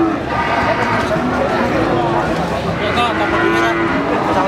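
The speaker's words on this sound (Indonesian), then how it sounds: "Ya, 2 ekor sapi limusin." Limousin cattle low at a busy Indonesian cattle market in Wirosari, their drawn-out moos rising over dense crowd chatter and steady market noise, with people talking nearby.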